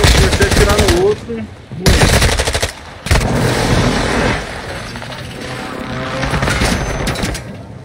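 Rapid automatic gunfire and sharp shots burst out in a shooter video game, in loud bursts broken by short gaps, with glassy shattering and a voice talking in places.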